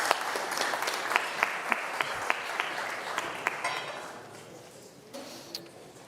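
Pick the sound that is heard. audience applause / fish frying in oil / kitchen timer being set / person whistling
audience applause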